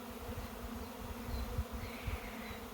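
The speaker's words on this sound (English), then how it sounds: "It looks like we've got a swarm settling in." A honeybee swarm settling in a garden near a fence post gives a continuous, even droning hum of many bees, steady and fairly close, with no voices.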